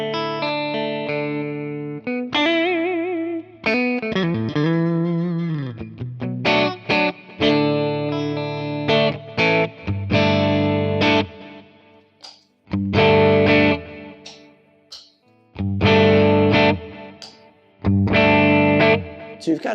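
Electric guitar chords from a PRS SE guitar with both humbucker coils split, played clean and bright through an effects chain, ringing strums and short phrases separated by brief pauses, loud and close with no voice.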